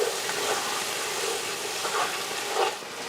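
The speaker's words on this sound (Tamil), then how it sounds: "நல்லா வதங்கிடுச்சு தக்காளி" Tomatoes and green chillies sauté in a pan for mutton biryani, giving a steady, close sizzle with faint stirring scrapes throughout.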